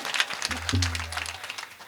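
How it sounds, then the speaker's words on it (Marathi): Audience members at a devotional kirtan clap in quick, rhythmic bursts over a low sustained musical drone, the claps fairly close and continuous. "जोरात जोरात टाळी"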